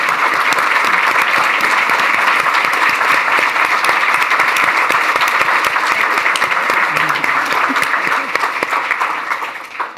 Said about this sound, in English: Let's give both Laura and Ellen a round of applause.